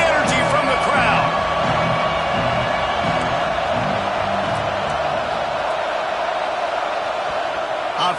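A stadium crowd at a Florida vs ASU college football game roars in a sustained, dense wall of cheering and noise that holds steady from start to finish, with no clear individual voices.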